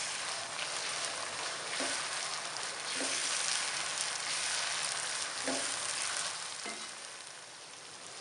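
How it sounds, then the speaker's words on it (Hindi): Chopped tomatoes cooking in a pan for achari aloo bharta give a steady, close sizzle and hiss throughout, with a few soft stirring knocks spaced through it and no voices. "ये कटे हुए टमाटर शामिल कर देंगे। थोड़ी देर पकाएंगे, तकरीबन 2 से 3 मिनट।"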